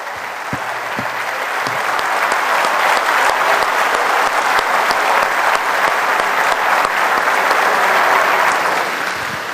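A church congregation clapping together, loud sustained applause from many hands forming a dense steady roar that swells in and holds, with a few sharp claps near the start.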